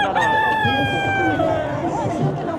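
Roosters crow loudly and close at a busy holiday poultry market, one long crow over a background of clucking fowl and crowd chatter with people talking nearby.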